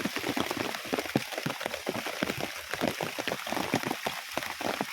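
Heavy rain pours down steadily in the mountains, with dense patter and splashing drops hitting surfaces close by; no voices, just a constant wash of noise.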